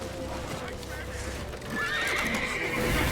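In The Witcher 3, a horse gives a loud whinny over the clip-clop of its hooves, with urgent voices and game noise around it.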